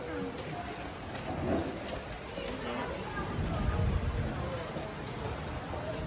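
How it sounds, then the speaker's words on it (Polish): Steady rain in Venice patters on a surface close by, a continuous soft hiss with a few heavier bursts, and faint voices underneath. "No tu widać pod światło, jak to pada."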